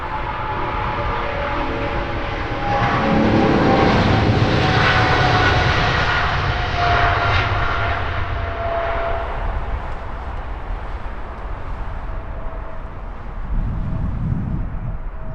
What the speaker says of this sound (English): Rolling now, British Airways flight 93 off to Toronto.